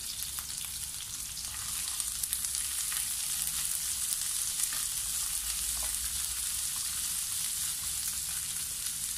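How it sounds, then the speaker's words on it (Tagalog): Onion sautés in hot cooking oil in a pan, giving off a steady, quiet sizzle with faint crackles that stays constant throughout, without any speech. "ituloy lamang po natin ang ating paggisa hanggang sa lumabas ang bango ng ating sibuyas at bawang"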